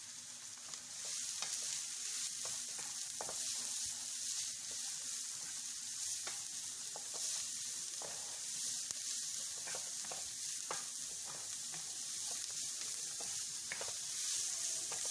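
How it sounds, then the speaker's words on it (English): Spices for an egg wrap sizzle and fry in a pan, with a steady bright hiss and frequent scraping stir strokes throughout, fairly close and unaccompanied by any voice. "Fry for about 30 seconds,"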